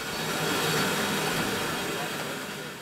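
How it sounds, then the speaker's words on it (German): A museum train rolls past on a staged photo run through the Schandental, a steady broadband rumble of wheels and carriages nearby that swells and then slowly fades. "Scheinanfahrt im Schandental."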